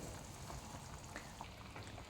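A pot of fish head curry boils, giving off a faint, steady bubbling and hissing with a few soft pops, heard alone without talk.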